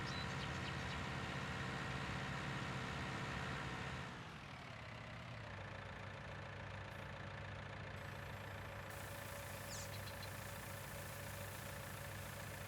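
Tractor engine in Farming Simulator 19 labouring uphill with a heavy barley load, a steady low droning hum that drops to a quieter, smoother tone partway through, with no talk.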